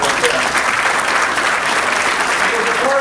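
Audience applause at an Upstate NY Basketball Hall of Fame induction ceremony, loud, dense and sustained clapping filling the hall, with voices mixed in underneath.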